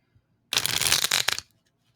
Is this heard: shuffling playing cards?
yes